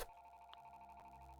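A telephone rings inside the horror video game FNAF: Rewritten 87, a faint, steady electronic ring tone with a couple of soft clicks, heard alone without talk.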